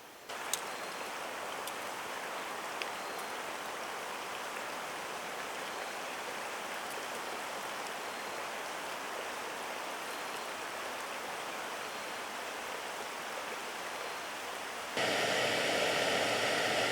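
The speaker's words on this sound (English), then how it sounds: "Get out of the rain." Steady rain hisses near a stream along a forest trail, a soft continuous wash that runs unbroken for the whole stretch and grows a little brighter and louder near the end.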